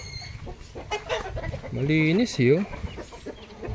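A chicken clucks close by in a few short, wavering calls, with people talking around it in the background.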